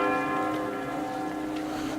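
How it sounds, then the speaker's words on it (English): A church bell tolls from a tower in Strasbourg, a sustained, shimmering ring with layered overtones that hangs steadily in the air, heard from a moderate distance with no talk. "We got here during the bell toll."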